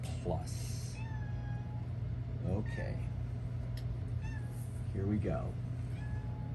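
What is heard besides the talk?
cat meowing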